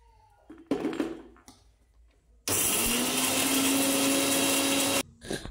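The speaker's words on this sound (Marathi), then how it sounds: "आता आपण हे मिक्सरला वाटून घेऊया।" An electric mixer grinder whirs loudly and steadily for about two and a half seconds while grinding garlic cloves, green chillies, coriander, coconut and cumin, after some handling clatter, then stops abruptly.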